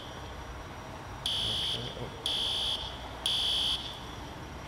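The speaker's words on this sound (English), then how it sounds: "We're gonna reset the fire alarm" A building fire alarm sounds in three loud, evenly spaced electronic bursts, each lasting about half a second, over a quiet room background.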